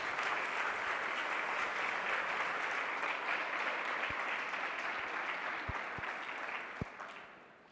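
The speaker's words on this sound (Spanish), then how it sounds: "le damos un fuerte aplauso, por favor" An audience at a lecture on Tolkien and the limits of hermeneutics gives a sustained round of applause, dense steady clapping with a few sharp individual claps near the end before it tapers off.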